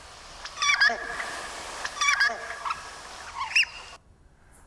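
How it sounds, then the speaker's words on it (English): Pink-eared duck calls played back: several bursts of chirruping, trilling notes come in quick clusters, moderately loud and close, ending in a short quiet gap. "It is the pink-eared duck."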